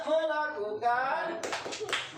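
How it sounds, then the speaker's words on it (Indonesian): Participants at a training class doing a rhythmic group clap cheer, a few quick clap bursts near the end after talking voices. "Kita tepuk sukses."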